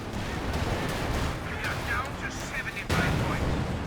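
Gunfire and explosions from a tank battle in a strategy video game, with a Panzer IV and Panther engaged, form a dense distant rumble of crackling shots and blasts, with a louder burst near the end.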